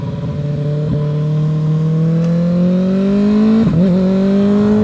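Kawasaki ZX-6R motorcycle engine revving hard as it accelerates from first into second gear, a loud rising whine that dips briefly at the shift and climbs again, close and continuous with no talk.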